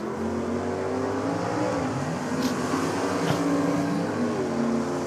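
Drag race cars, a Chrysler Centura and a 430 cubic inch LSX-powered Tirana, roar loudly and continuously down the track, with engine pitch rising and falling as they run.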